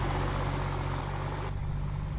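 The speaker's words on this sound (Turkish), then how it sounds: "Abi traktör de dışarıdan ne kadar ses veriyor ya." A low, steady tractor engine in Farming Simulator idles with a deep rumbling drone, loud and continuous, with no voices.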